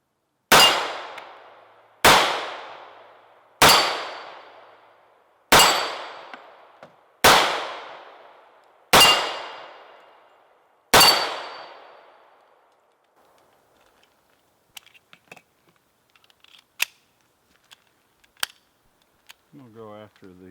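An ATI Titan 1911 pistol fires seven loud, sharp shots outdoors at a steady pace of roughly one every 1.5 seconds, each shot ringing into a decaying echo, followed by faint clicks and handling noises.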